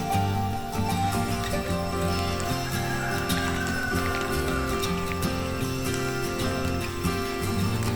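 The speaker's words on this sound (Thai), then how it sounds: "ได้ยินแต่เสียงเขาเรียกว่าหมอกใช่ไหมหล่นบนใบไม้เนี่ย ปอกแป๊กปอกแป๊กกันนะ" Mist droplets patter irregularly onto leaves in a forest at night near Thung Salaeng Luang, with scattered close ticks over a dense, steady night ambience of insects and hum, without rain falling.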